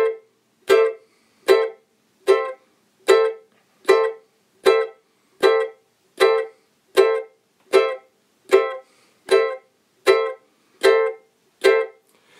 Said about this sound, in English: we're just gonna strum quarter notes with a little space in between